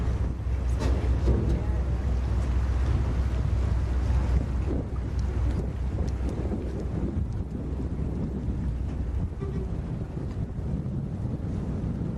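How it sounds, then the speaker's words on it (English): Waves churn and slosh against a boat in Prince William Sound, Alaska, under heavy wind rumble on the microphone, steady and loud throughout, with faint voices mixed in. "Your balance here as the waves surge the boat."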